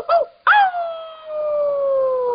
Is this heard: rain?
no